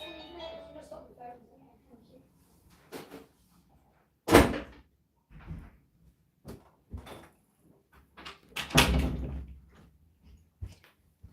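A house door opens and shuts for a postal delivery, with thuds and handling knocks at intervals, a couple of them loud and close, while a voice talks in the background between sounds.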